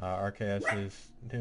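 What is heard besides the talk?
dog barking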